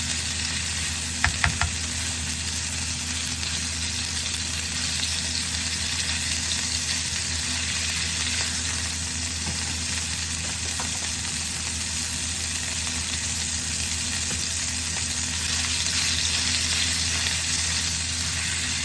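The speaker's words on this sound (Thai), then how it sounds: "อันนี้ให้ทอดจับกันเป็นก้อนนะคะ" Minced pork fries in a hot pan for a Thai stir-fried eggplant and basil dish, giving a steady, loud sizzle with occasional clinks of stirring, continuous throughout.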